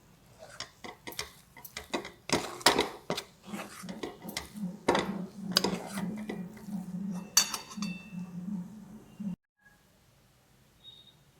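A spoon stirs moong dal halwa in a pan, tapping and scraping against the metal in an uneven series of close clinks for about nine seconds before the sound cuts to near silence.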